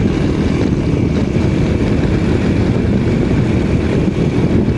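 Honda C90 motorcycle fitted with a Lifan 110 engine on a test ride, cruising at about 40 at low revs with a 17-tooth sprocket; a steady, loud engine drone mixed with heavy wind rumble throughout.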